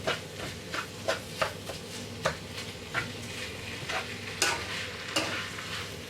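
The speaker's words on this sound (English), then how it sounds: "we're just going to mix the stuff through it" A spoon stirs a canned tuna mixture in a bowl, giving soft repeated scraping and wet squelching strokes with occasional sharper clicks against the bowl.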